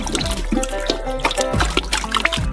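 Gelatin is stirred into juice in a saucepan for a giant gummy worm, giving liquid sloshing and splashing with repeated low thuds and scrapes of the stirring in a fairly close, busy rhythm.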